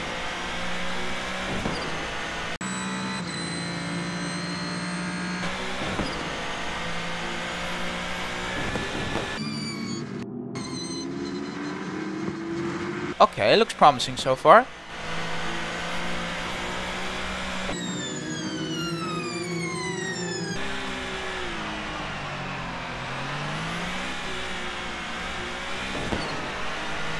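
Racing video game car engines at the start-finish line of Fuji, several alternating engine tones with revving pitch sweeps and gear changes, steady and fairly loud, with a short burst of louder mechanical noise midway and a brief spoken remark.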